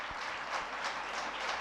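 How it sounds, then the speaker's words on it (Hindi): Applause from a gathered audience at a religious discourse, a steady wash of many hands clapping at moderate distance, continuous and even throughout. "जोरदार तालियां बजाओ भाई।"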